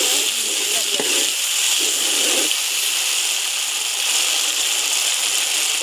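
Ginger paste hitting browned onions in a hot pan, a steady bright sizzle and hiss with a few soft stirring scrapes early on, close and continuous.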